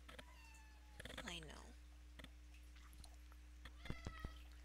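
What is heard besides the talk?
pet cat meowing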